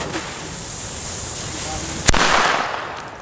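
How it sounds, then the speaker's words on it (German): A single sharp bang from an El Gato Masclet firecracker rings out near the end, a short loud crack over a steady outdoor hiss, trailing off in a brief rumble. "vom Knall her ein sehr, sehr guter D-Böller, muss man sagen."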